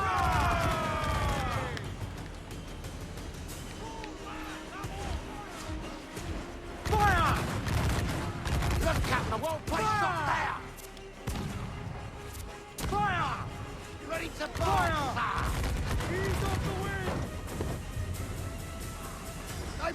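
Ship cannons fire in repeated heavy booming volleys during a naval battle in Assassin's Creed Black Flag, with crashing impacts and shouted commands between bursts, all over a busy game soundscape.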